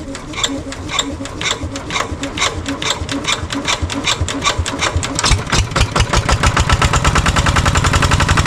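A small farm engine in a calamansi field fires up and runs steadily, its rapid regular chugging pulses growing louder and faster toward the end, close by and loud with no talk over it.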